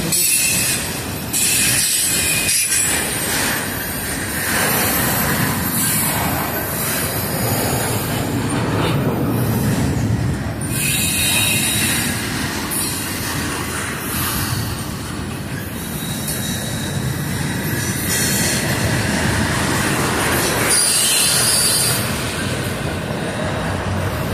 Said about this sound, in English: that train on track two come roaring around the corner right now